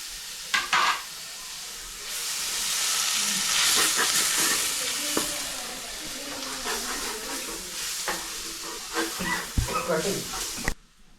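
Sliced tomato sizzles in a pan over already sautéed ginger and garlic for a pepper chicken, a steady frying hiss from about two seconds on, with stirring scrapes and clinks, short gaps of quiet and a voice talking over parts of it.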